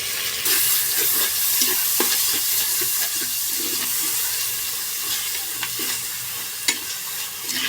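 Ground tomato and onion masala frying in oil for a goat head curry, a loud, continuous sizzle close by with scattered scrapes and knocks as it is stirred. No one speaks.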